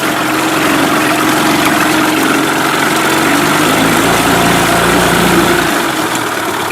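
A Mercury 8 HP outboard engine running in gear at low revs, a loud, steady idling drone with a low throbbing hum that holds evenly throughout, no voices.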